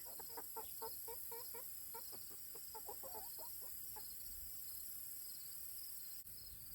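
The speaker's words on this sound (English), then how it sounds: "These crazy chickens are all on top of each other." Farm chickens cluck in quick, irregular bursts close by, over a constant high-pitched chorus of insects; the clucking trails off toward the end.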